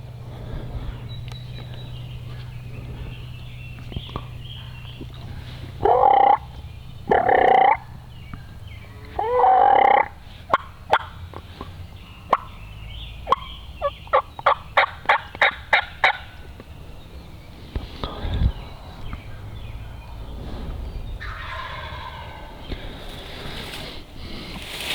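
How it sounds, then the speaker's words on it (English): Wild turkeys gobble during a spring hunt in Kentucky, several loud, rattling gobbles from fairly close, followed by a quick run of clucks and softer calls, with a hunter whispering in between. "They might come, them gobblers."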